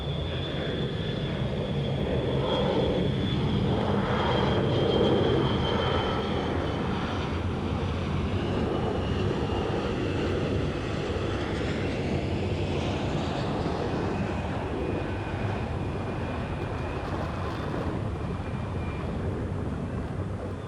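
A jet airliner's engines roar steadily on a runway at Boston Logan Airport, loud and continuous throughout, with a faint high whine drifting over the rumble.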